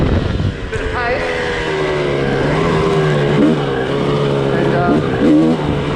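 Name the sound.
car driving a fast lap on a home race track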